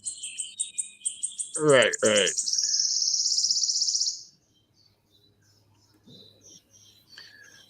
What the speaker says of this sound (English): this is where I add the bird sounds